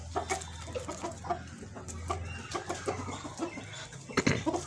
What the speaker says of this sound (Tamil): இங்கே பாருங்கள் நம்ம கோழி எப்படி சாப்பிடுதுன்ட்டு